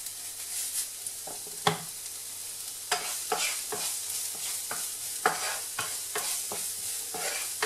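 Shallots sweating in a hot pan after a pinch of salt, a soft steady sizzle with repeated scraping and stirring strokes from a utensil, close and moderately quiet, with no talking.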